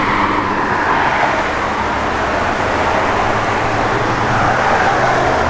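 A 1968 Chevrolet C10 pickup truck engine runs steadily with a broad, continuous rumble and roar, loud and close, with no pauses and no talk over it.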